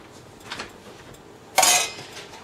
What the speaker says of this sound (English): Cover with a lid.